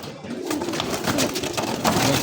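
Pigeons kept for sale, including khaki and white pairs, coo softly and repeatedly up close, with flapping and rustling in the background.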